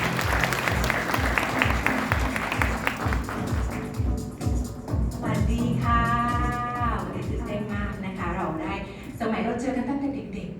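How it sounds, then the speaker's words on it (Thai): An audience claps in a steady rhythmic beat at a Thai international school press conference, then the clapping fades as a voice begins speaking over light background noise. "ขอเสียงปรบมือต้อนรับ"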